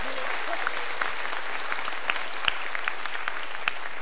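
A stand-up comedy show audience applauds for the Hotel Papandayan, a loud, dense, continuous roar of clapping with occasional sharper claps punching through.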